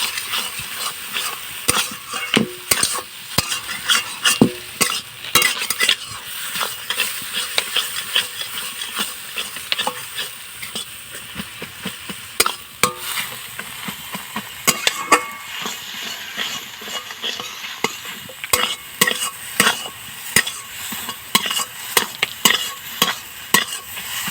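Noodles for a dhaba-style dish stirred and fried in a pan over a clay stove, with a continuous sizzle and repeated scraping strokes of the spatula throughout, no voices.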